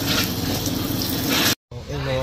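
Tap water runs in a steady, loud rush for about a second and a half while water is fetched, then cuts off abruptly; after a short silence, voices speak.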